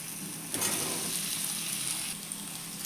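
Potato pieces, boiled and cut, stirred into masala in a hot pan for Gujarati bhungda bateta street food, giving a steady close sizzle with light scraping of the stirring throughout.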